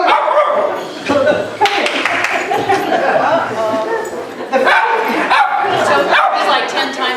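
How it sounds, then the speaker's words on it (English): A dog barking indoors during a talk, several loud close barks and yips mixed with whimpering, with people talking and chattering over them. "Oh, it's a dog."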